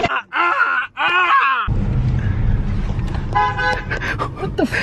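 Car horns honk as a birthday prank: two short toots at the start, then a longer blaring honk over street and crowd noise, with voices and laughter underneath.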